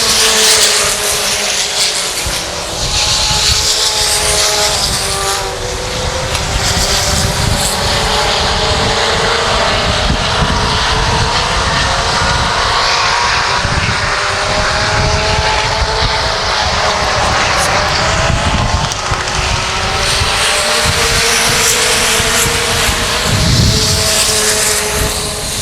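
Race cars roar at Salina Speedway, several engines droning loud and continuous as the field runs close together through the turns, with no voices over the sustained snarl.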